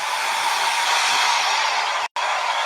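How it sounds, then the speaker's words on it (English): A handheld hair dryer blows continuously to dry stencil paint, a loud, steady close whoosh with one brief cut-out near the end before resuming. "I'm going to run the blow dryer"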